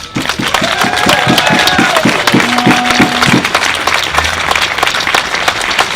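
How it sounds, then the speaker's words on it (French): A crowd at a press-freedom support gathering in Nantes gives a loud, sustained round of applause, dense clapping throughout with a few whoops and a rhythmic beat of group clapping near the start. "on te fait une petite dernière salle d'applaudissements pour la route"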